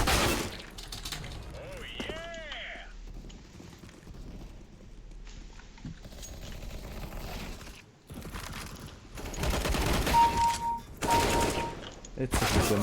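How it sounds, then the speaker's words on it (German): Gunfire in the video game CS:GO, with bursts of shots scattered through the clip alongside other game sounds and a talking voice. "Wie lange hast du jetzt geschossen?"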